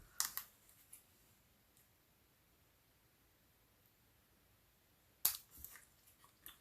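Paper for a Stampin' Up! window card is cut, giving two brief sharp snips of scissors, one at the start and one near the end, with near silence between.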